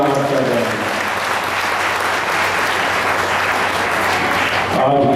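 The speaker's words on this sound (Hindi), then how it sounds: "सब पुनः एक दूसरे के लिए तालियों की गड़गड़ाहट कर रहे हैं।" Sustained audience applause at a spiritual discourse gathering in Sujangarh, a dense, steady wash of clapping that holds evenly throughout.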